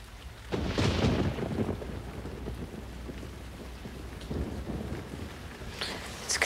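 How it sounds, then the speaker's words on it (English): Steady rain pours down while a low rumble of thunder rolls through, swelling early and again later, with no voices. "And it's raining."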